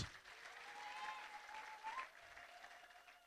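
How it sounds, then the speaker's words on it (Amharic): A church congregation applauding for Jesus during a sermon: a sustained, fairly faint wash of clapping from many hands that rises and falls slightly, with a tonal background held underneath. "አጨብጭቡ እስቲ ለኢየሱስ።"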